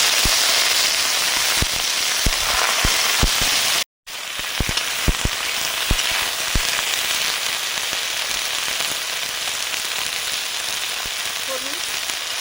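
Potato, eggplant and peas with dried red chilli and five-spice seeds hitting hot oil in a pan, a loud steady sizzle and crackle with sharp pops scattered throughout and one brief cut to silence, no voices.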